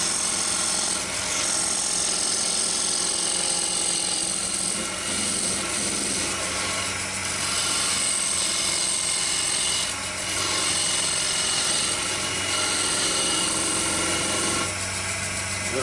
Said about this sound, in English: just using the tail of the skew chisel, very gently in